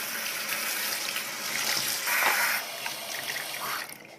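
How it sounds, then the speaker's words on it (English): Water runs steadily from a tap into a sink while a doll's hair is rinsed of conditioner, a continuous splashing hiss with brief shifts as the stream hits the hair, close and alone. "I'm going to go ahead and rinse it really well"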